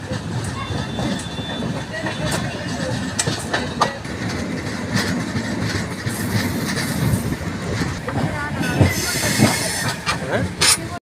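A train rolls along the tracks between Guntur and Vijayawada with steady rumbling, rhythmic clacks and occasional metallic squeals, voices faintly audible in the background.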